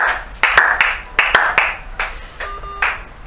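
A church congregation claps during a worship service, with a handful of sharp, evenly spaced claps that ring in the hall. A faint tone sits under them.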